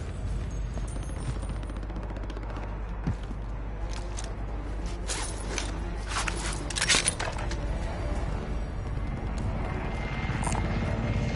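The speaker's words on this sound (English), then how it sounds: "Enemy attack chopper is in the AO." An enemy attack helicopter in a PS4 shooter, its steady low rotor drone running throughout, with crashes and bursts of gunfire breaking over it midway.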